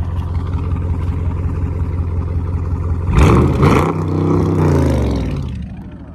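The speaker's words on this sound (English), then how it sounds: "Rev it up!" A Dodge Charger Scat Pack engine idles with a steady low rumble, then rises into loud revs around the middle, with a couple of sharp throttle blips and a sustained roar before easing back.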